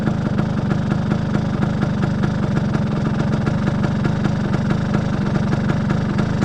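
A 1980 Vespa P-125X scooter engine, fitted with a 177 kit, runs with a steady, buzzing, rapid-firing drone close by, even and loud throughout with no voices.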